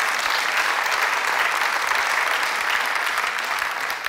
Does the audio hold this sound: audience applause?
yes